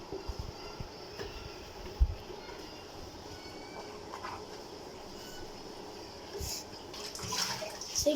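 Water runs steadily into a full kitchen sink while dishes are washed at home, a constant close rushing with faint clinks and splashes and no clear speech.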